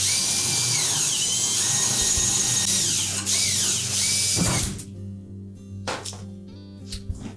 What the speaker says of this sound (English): using an 1/8 inch bit and a portable drill, we're just going to drill those out first